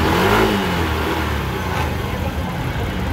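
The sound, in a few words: Kawasaki Estrella 125 motorcycle engine revving at steady throttle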